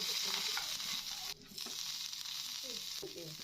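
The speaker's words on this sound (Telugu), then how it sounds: "ప్యాన్ లో కొంచెం ఆయిల్ వేసి అది హీట్ అయ్యాక ఈ తాలింపు దినుసులన్నీ వేసేయాలి" Tempering spices and curry leaves crackle and sizzle in hot oil in a pan, a steady bright frying hiss with occasional stirring and popping.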